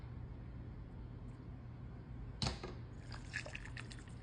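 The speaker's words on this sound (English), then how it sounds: "add a 1/2 cup of boiling water to each bowl of Jell-O, each color" Boiling water is poured into a bowl of Jell-O mixture, giving a soft, steady trickle with a brief splash partway through, faint and close with no talking.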